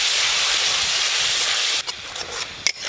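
Mustard and green chilli paste fries in hot oil in a pan, a loud dense sizzling hiss that drops off suddenly partway through, followed by softer scraping and stirring clatter.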